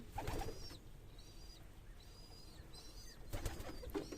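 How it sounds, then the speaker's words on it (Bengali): Pigeons coo in low, soft repeated calls at a pigeon farm loft, amid faint rustling and a few higher chirps from nearby birds. "তো আজকে আমার কবুতরগুলো আপনাদের দেখাবো"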